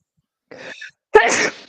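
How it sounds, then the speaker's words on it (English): Two sneezes in quick succession: a soft breathy one, then a sharper, louder burst after a short pause. "I sneeze in threes, guys."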